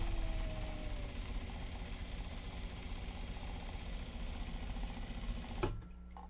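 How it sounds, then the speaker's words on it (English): A sewing machine stitches the handle of a navy fabric box bag, running in a steady, close, continuous mechanical whir before stopping abruptly near the end. "Actually, I was sewing the handle."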